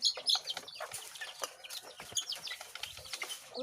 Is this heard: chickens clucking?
yes